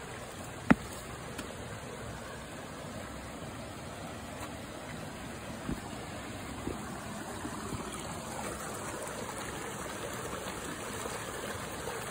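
A river flows over a small cascade among large stones scattered in its bed, producing a steady, even rush of water throughout with a couple of faint clicks and no voices.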